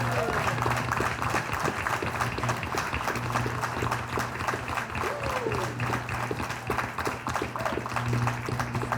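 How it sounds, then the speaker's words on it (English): Crowd applause at a Winthrop town council swearing-in ceremony, many people clapping steadily for several seconds in a hall, with a low hum and some voices beneath. "Okay, enough applause."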